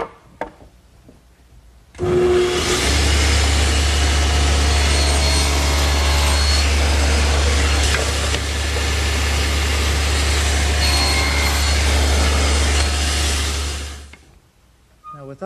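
A table saw blade cuts a 3/16-inch-deep tenon shoulder into a board, a loud sustained whine and roar that starts abruptly, holds steady for about twelve seconds, then winds down.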